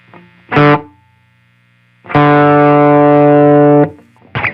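Electric guitar through a compressed, gritty Kinky Comp effect on an HX Stomp: a short stab, a pause, then a long sustained chord that cuts off, and another note starting.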